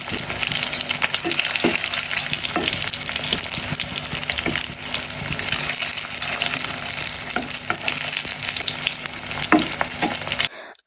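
Hilsa fish fries in a pan with a loud, steady sizzle running throughout, joined by occasional sharper pops and crackles, with no talking.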